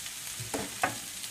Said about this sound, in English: Then we add onions, carefully of course, the oil is boiling.